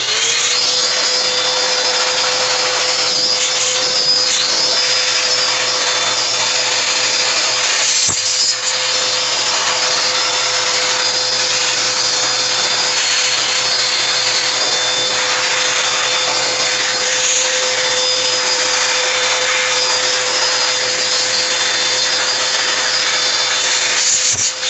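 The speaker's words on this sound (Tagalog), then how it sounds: "So gamit lang po tayo nitong blower." A steady, loud electric blower whirs continuously with a constant high whine while cleaning a solar inverter's circuit board, briefly interrupted once before resuming.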